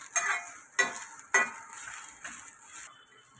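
Onion and fresh grated coconut roast in a pan with a little oil, giving a soft sizzle under several sharp scrapes and clinks of a spoon stirring against the pan.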